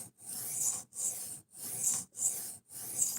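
A blade drawn across a sharpening stone in long, even strokes, five rasping passes with short pauses between, close and fairly quiet, no voices.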